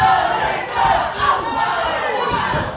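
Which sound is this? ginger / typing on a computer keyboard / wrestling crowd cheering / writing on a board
wrestling crowd cheering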